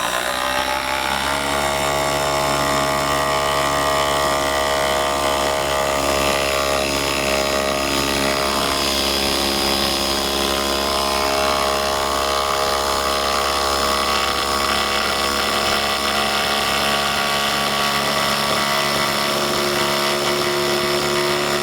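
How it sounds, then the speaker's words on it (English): A RIDGID brushless 1/4-inch three-speed impact driver, model R862311, on a 4 amp-hour battery drives large lag screws. It gives a loud, sustained whirring buzz with a steady droning tone for the whole stretch, with no talking. "Let's put in some little bit larger lags"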